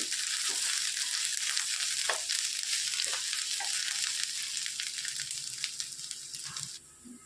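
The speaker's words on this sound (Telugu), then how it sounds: "అల్లం వెల్లుల్లి పేస్ట్ పచ్చి వాసన పోయేంత వరకు వేయించుకోవాలి" Onions with ginger-garlic paste sizzle and fry steadily in a pan for an egg masala curry, a continuous crackling hiss with a few stirring clatters, close and alone without talk.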